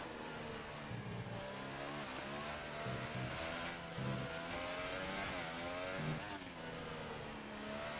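Onboard engine of a Formula 1 car in the racing game F1 2018 at Abu Dhabi, whining steadily with gear changes and rising and falling revs, loud and continuous.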